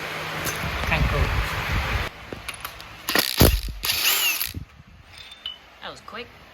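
Power tool whirring in bursts to remove the crank pulley bolts from a Nissan Patrol's LS1 engine during a rebuild, loud and close, with a voice speaking between the runs.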